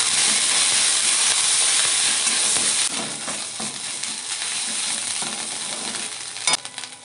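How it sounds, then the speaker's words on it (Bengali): Ground green chilli and ginger fry in hot oil with a loud, continuous hissing sizzle that eases slightly partway through, broken near the end by a brief clatter of a utensil against the pan. "বাটা কাঁচা লঙ্কা, আদা একসাথে ভেজে নেব"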